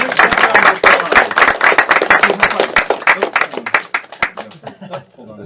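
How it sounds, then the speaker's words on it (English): Applause from a small table-side magic show audience for a volunteer named Kurt: sharp, distinct individual claps near and loud, gradually thinning and tapering off toward the end. "Everybody give Kurt a round of applause."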